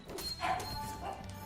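Dogs barking in the video game Aerea, a short burst of yaps over game music and background sound.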